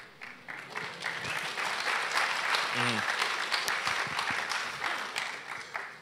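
Conference audience applauding during a technical talk on Ethereum Casper validators, a sustained wash of many hands clapping at moderate distance, with a brief voice breaking through partway.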